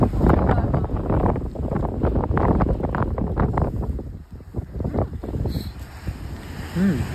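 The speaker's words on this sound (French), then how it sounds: "le vent déjà violent ne fait que progresser" Violent wind buffeting the microphone during a winter climb of an erupting volcano, loud irregular roaring gusts that ease slightly toward the end, with faint voices briefly audible.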